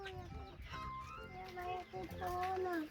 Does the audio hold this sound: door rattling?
no